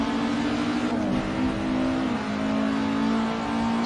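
A Porsche or Alfa car engine pulls hard under acceleration, a loud, steady drone heard from inside, with the pitch sliding as it shifts and keeps pulling.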